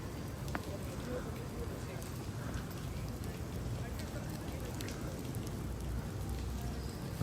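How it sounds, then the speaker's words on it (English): Water drips and patters irregularly from a cave ceiling at the Batu Caves, many small drops falling in the reverberant space over a steady background wash. "There is water raining down, seeping from the cave."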